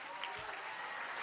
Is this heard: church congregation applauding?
yes